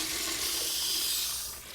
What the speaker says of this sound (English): And then you just flush.